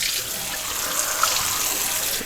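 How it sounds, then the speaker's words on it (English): A kitchen faucet runs water over a sheet of watercolor paper to wet it for stretching. The stream is a steady, hissing gush at close range and does not stop for the whole moment. "And then I turn the faucet off"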